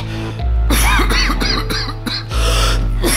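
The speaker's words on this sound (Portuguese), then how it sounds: "eu odeio quando eu tô tossindo" A few close, harsh coughs in a quick burst, with a rough throat-clearing quality, over a low steady background hum.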